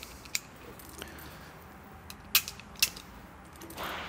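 Cartridges pressed one after another into a Tokarev pistol magazine, giving a few sharp metallic clicks at irregular intervals against quiet background.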